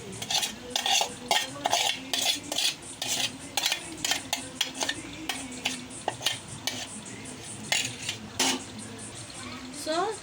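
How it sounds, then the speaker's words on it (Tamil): Pasta being stirred into a pan of tomato and soy sauce for Tamil-style chicken pasta, with repeated scraping and clinking of a spoon against the pan in an irregular rhythm, close and moderately loud, with faint sizzling underneath. "இப்போ நம்ம இந்த பாஸ்தாவெல்லாம் போடலாம்."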